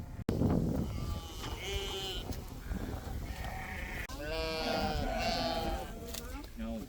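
Pregnant sheep that have not yet lambed, kept outdoors on a farm in Russia, bleat repeatedly, several overlapping calls close by, while people talk in the background.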